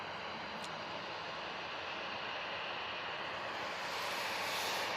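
A TUI Boeing 737-800 bound for Larnaca, heard as a steady, broadband jet roar at an airport, moderately distant and continuous, swelling slightly toward the end.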